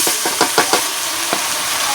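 Sliced onions fried in a pan with ground spice paste stirred in hiss and sizzle continuously, with a few sharp scraping stirs of the spoon early on.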